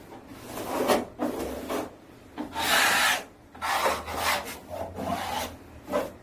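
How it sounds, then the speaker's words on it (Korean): A hand sweeps wallpaper flat onto a window frame in a series of dry, rasping rubbing strokes, each about half a second long, close and fairly loud. The strokes come in an uneven rhythm with short pauses between them. "손으로 이렇게 한번 문질러 준 다음에"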